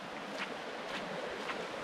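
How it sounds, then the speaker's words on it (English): A small creek in North Georgia flows after recent high water, giving a faint, steady rushing hiss over a short stretch. "the creeks are flowing higher right now"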